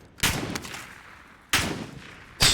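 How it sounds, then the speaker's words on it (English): Gunfire in Call of Duty: Warzone, three sharp, loud single shots spaced apart, each with a short decaying tail, and no talking over them. "Who's shooting?"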